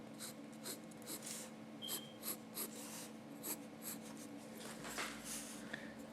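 A pencil scratching across paper while sketching a cartoon of Sonic, with soft, close strokes in irregular short bursts, quiet and alone.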